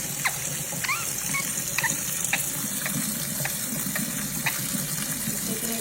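Water running from a tap for a ringneck parrot's shower, a steady hiss and splash throughout, with a few faint chirps from the bird over the flow.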